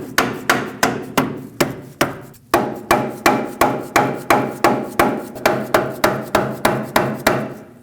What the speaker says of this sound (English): Use a rubber mallet to tap it into place if needed.